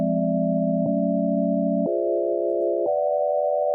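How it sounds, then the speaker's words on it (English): A sequence of generated minor-sounding synth chords made of pure sine-like tones, four sustained chords changing about once a second, clean and steady with no voices. "You can see it's generated nice minor sounding chords."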